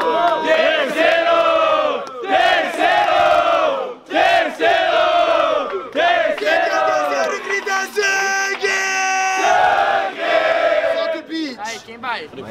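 A loud crowd at a Brazilian student rap battle in Guarulhos roars and chants in repeated surging waves, shouting and cheering close and dense throughout.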